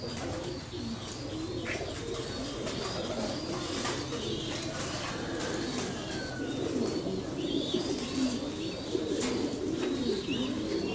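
A crowd of pigeons coos steadily at a pigeon farm in Vietnam, with overlapping throaty calls, scattered chirps and occasional wing sounds forming a dense, continuous background close by.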